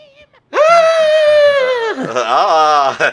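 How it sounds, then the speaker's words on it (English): A single drawn-out, high wailing scream from a passenger aboard a train in the Professor Layton and Pandora's Box video game. It starts abruptly and holds loud and near, then breaks into wavering, warbling cries. "Come on, passengers, let me hear you scream!"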